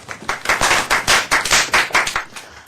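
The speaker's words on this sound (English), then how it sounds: "Would y'all give them a round of applause?" A round of applause at a public health customer service training session. The crowd claps in fairly regular bursts, loud and close, then tapers off near the end.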